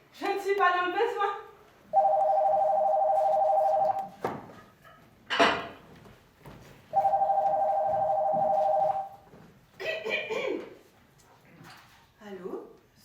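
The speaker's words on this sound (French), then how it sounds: "Allô, secrétariat d'Anastasse Dupont, bonjour" An old-style telephone bell rings in two sustained bursts of about two seconds each during a French stage play, with actors speaking before, between and after the rings.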